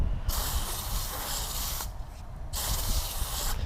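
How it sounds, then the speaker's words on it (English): A pressure hose sprays water off a removed Lamborghini wheel during detailing, two loud, steady hissing bursts split by a brief pause, close and alone with no talking. "Set that aside, spray that off."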